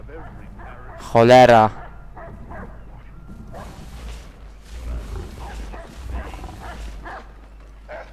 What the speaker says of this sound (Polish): Przestań mi szczekać